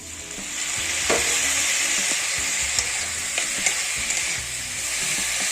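Roasted moong dal with ginger paste fries in a pan for vegetable khichuri. A loud, continuous hiss of sizzling oil is broken by a few soft stirring clicks, close and without any voice.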